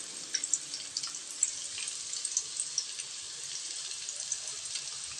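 Thinly sliced onions frying in oil for mint pulav, a gentle, even hiss with light crackles and a few soft stirring taps, close and fairly quiet.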